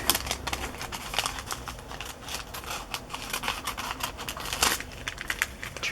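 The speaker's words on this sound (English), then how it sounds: "Use my smaller scissors." Small scissors snip through paper and tissue in a run of quick, crisp close-up cuts with faint crinkling, no talking.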